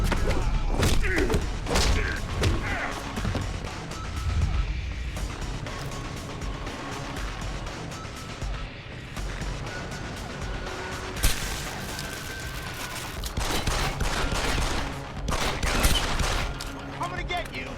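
Video game gunfire crackles in rapid bursts and single thumps, dense and loud across the stretch, with a brief lull near the middle and scattered voices mixed in.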